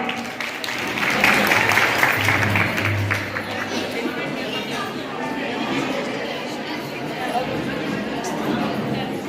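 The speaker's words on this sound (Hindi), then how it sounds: "इनके लिए जोरदार तालियां" Audience at a women's honouring ceremony clapping steadily, a sustained wash of applause mixed with crowd chatter and a voice speaking over it.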